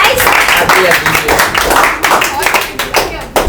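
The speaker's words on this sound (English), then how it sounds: "Clap for him, yeah, guys" An audience claps for a student at an academy farewell function, a lively patter of many hands with a few scattered taps, while someone speaks over it.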